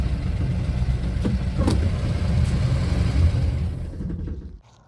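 The Poly 318 engine of a 1964 Plymouth Belvedere runs with a steady, close, rumbling idle, then cuts off and falls silent near the end.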